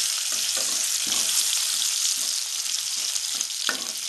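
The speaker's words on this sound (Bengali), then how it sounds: "আলুগুলো আমি একটু লাল লাল করে ভেজে নেব।" Potato pieces fry in a pan of hot oil for a Bengali-style mutton curry, giving a steady, bright sizzle with a few soft stirring knocks and no voices.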